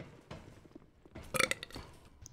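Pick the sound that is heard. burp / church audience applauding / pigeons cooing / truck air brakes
burp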